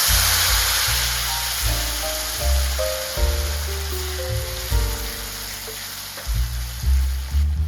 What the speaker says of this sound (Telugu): దీంట్లోకి ఎండుమిర్చి, అదేవిధంగా మనకి కరివేపాకు, వేసుకుని మనం ఈ పెసరకట్టుని ఇందులో డ్రాప్ చేసుకుందాం